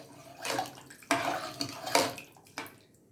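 Soaked rice and tur dal being stirred together in a pot for one-pot sambar rice, giving several short wet scraping and clinking strokes with watery sloshes, fairly close and moderately loud, with no talking.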